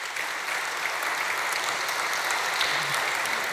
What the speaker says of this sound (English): just want to give a round of applause to all of our panel members